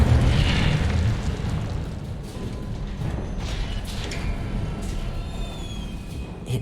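Incendio fire spell cast in the video game Hogwarts Legacy, a roaring, whooshing blast with a rumbling body that holds steady throughout, dense and loud with faint higher chimes over it.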